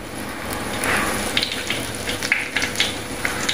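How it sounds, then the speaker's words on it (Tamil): Dried red chillies, mustard seeds and curry leaves sizzle and crackle in coconut oil over low heat for tomato rasam, a steady frying hiss with scattered sharp pops from the seeds, close and fairly loud. "அடுப்பை குறைச்சி வச்சு போட்டு இந்த காய்ந்த மிளகாயை போடுவோம். அடுத்தது கடுகு, அடுத்தது கருவேப்பிலை,"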